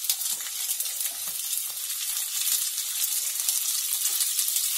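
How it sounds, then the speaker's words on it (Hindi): Onion sautés in a pan alongside already-sautéed chillies, ginger and garlic for chilli chicken, a steady close hiss and sizzle holding throughout with faint stirring scrapes, no voices. "अब इसी में मैं सबसे पहले अनियन ऐड कर दूंगी"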